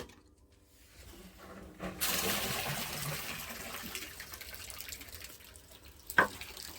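Quiet hum, then water from a pump outlet suddenly gushes out and keeps pouring in a strong steady rush, with a brief clunk near the end.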